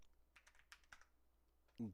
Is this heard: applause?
no